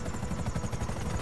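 A police helicopter in the video game Grand Theft Auto 5 whirs with steady, pulsing rotor chop, loud and close throughout a brief stretch with no talk over it.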